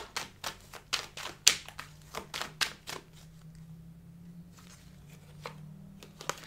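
Tarot cards are shuffled and drawn by hand in a rapid run of crisp riffling slaps, close and moderately loud, then a few quieter scattered taps as cards are laid down, with no talking.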